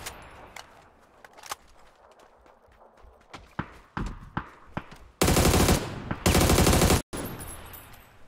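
Rapid bursts of automatic gunfire from a shooter video game, several sharp shots early on followed by two long, loud sustained volleys near the end, with no talk over it.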